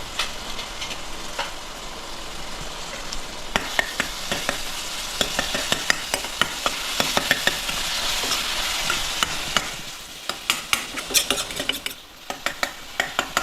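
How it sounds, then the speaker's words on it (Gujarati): Chopped cabbage stir-fried in a pan for batata poha sizzles steadily up close, while a spatula knocks and scrapes against the metal in quick, uneven clatters that grow sharper toward the end, no talking. "હવે આપણી પાસે આ જે સમારેલી કોબી છે એને નાખી દેવાની છે"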